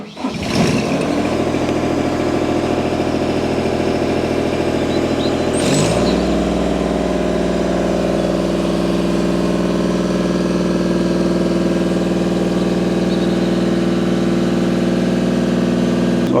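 A cherry picker's engine runs close by, a dense steady idling rumble that shifts to a lower, heavier tone about six seconds in and then holds constant, with no voices.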